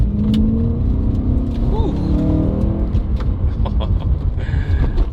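A BMW M3 E92 Competition with a six-speed manual, driven hard in M mode, its engine a loud, close, continuous drone that rises in pitch under acceleration, with road and cabin noise beneath.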